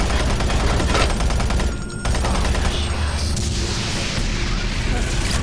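Enemies firing guns in Doom 3, a dense rattle of rapid gunfire and booms filling the scene, loud and continuous with a short dip, under steady game noise.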